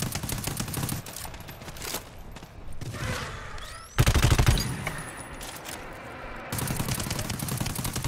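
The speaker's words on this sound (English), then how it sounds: "I wanna shoot him a bit." Rapid bursts of automatic gunfire in GTFO pour into a boss, dense rattling volleys that pause briefly and resume, loud and close throughout.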